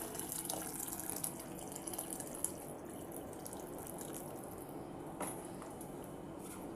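Water is poured into a simmering Nellore-style fish and mango curry masala in a pot, a faint, steady splashing hiss with a few soft clinks.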